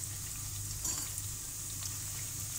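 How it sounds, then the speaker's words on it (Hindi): Slices of bread deep fry in hot oil for a sweet bread dessert, giving a steady, close, continuous sizzle and bubbling with no pauses. "ब्रेड को हमें डीप फ्राई करना है,"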